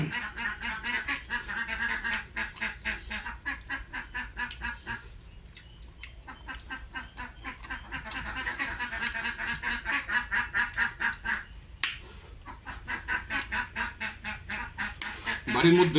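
Ducks quack continuously in a noisy, rhythmic chorus, loud and close, with a few short pauses in the calling.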